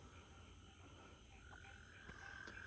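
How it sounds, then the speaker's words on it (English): A frog croaks faintly outdoors at night, a soft distant call over a quiet hiss of background noise. "I don't know if you can hear the frog out there"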